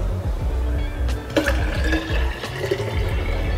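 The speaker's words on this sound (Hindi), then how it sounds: "फिर से हम थोड़ा थोड़ा पानी और डाल देंगे" Water poured into a steel water bottle, a loud close gurgling, splashing stream with a few sharper sloshes, running continuously.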